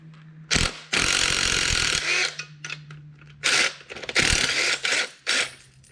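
A ratchet undoes car suspension bolts while lowering springs and shocks are being fitted, in several loud, close bursts of rapid clicking separated by short pauses, with a low steady hum running underneath.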